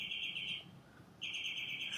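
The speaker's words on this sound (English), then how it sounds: "a bird flew into the room that we were in down in Houston, and it wasn't being quiet." A small bird that has flown indoors into a room chirps and sings in bright sustained trills, with a short pause before the song resumes, close and clear, with no talk.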